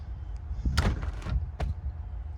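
A smart keypad door lock on a shop door: a couple of sharp mechanical clunks and thuds from the latch and door, close and moderately loud, with a brief click afterward.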